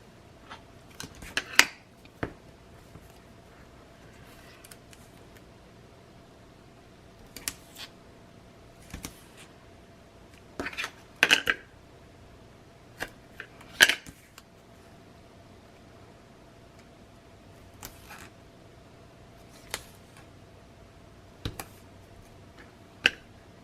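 Adhesive tape handled and applied to 2 1/2 inch pieces for a Corner Chomper stand insert, heard as scattered close, sharp crackles and peels of tape, quiet between bursts, with no talking.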